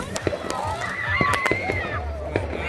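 Fireworks at a Fourth of July celebration in Owings Mills, Maryland, give off a scattering of sharp pops and crackles spread across a few seconds, with people talking over them throughout.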